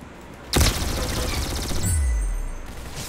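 Gunfire in the Roblox game Arsenal, with a sharp loud blast followed by a dense rattling burst of shots and a deep rumbling boom.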